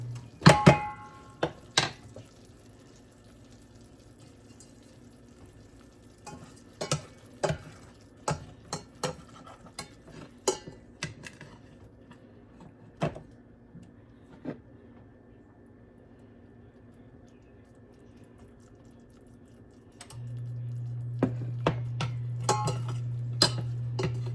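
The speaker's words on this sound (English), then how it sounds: "shallot soup is done, I'm going to go ahead and scoop it out into my bowl" A spoon or ladle scoops homemade shallot soup from a pot into a bowl, with sporadic metallic clinks and scrapes spaced through quiet stretches, and a steady hum rising near the end.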